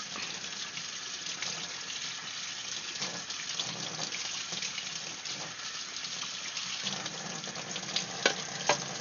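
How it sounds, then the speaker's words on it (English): Running water rinses out a small container, giving a steady hissing splash at a constant level with faint clatters near the end. "Rinse it out. So there's no dust bunnies in there."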